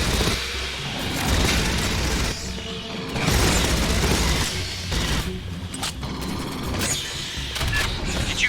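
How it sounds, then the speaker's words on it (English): Repeated heavy booms and blasts crash in bursts in Aliens: Fireteam Elite over a dense, rumbling background of mechanical clatter, loud and close throughout. "Did you hear explosions just now?"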